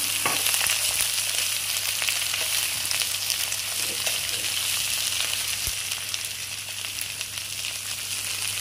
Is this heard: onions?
yes